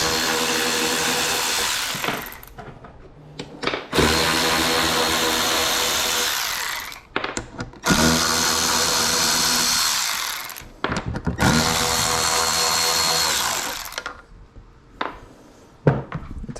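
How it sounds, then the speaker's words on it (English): A power tool whirring out four 7mm bolts in the tail light area of a 2015-2017 Ford F150, loud and close in several long sustained runs separated by short pauses. "And just take out these 4 bolts."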